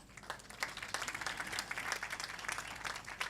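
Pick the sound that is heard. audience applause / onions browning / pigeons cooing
audience applause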